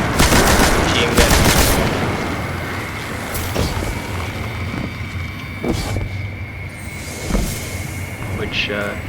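Rapid machine gun fire in the video game Destiny 2 rattles loudly in dense bursts at the start, then continues as intermittent shots over a steady background hum.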